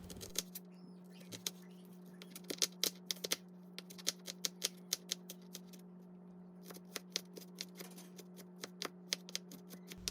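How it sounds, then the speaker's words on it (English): Knife chopping an onion into small pieces on a cutting board while making Nigerian fried fish pies: a quiet series of sharp, irregular taps, sometimes in quick clusters, over a steady low hum with no talk. "So I'm just going to cut the onion into smaller pieces."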